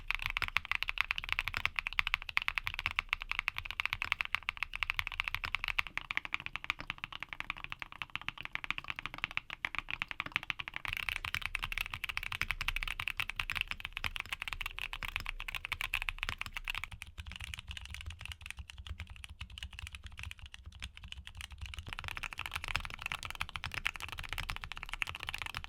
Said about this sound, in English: here are back-to-back sound tests of all the switches we talked about today